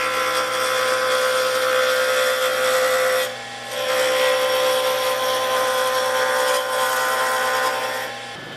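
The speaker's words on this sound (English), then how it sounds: "I got the blanks mounted in the lathe, and I'm going to start roughing them in." A wood lathe roughs down stabilized buckeye burl pen blanks with a loud, continuous scraping and rasping of the tool on spinning wood, broken by one short pause partway through.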